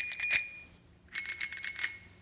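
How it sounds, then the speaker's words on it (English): Bicycle bell rung twice in quick bursts of bright metallic dings, a short ring then a pause and a longer flurry of rings, fairly close and alone without speech. "How come her bell sounds deeper than mine?"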